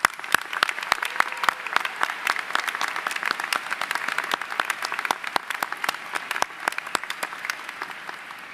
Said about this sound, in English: Please join me as we applaud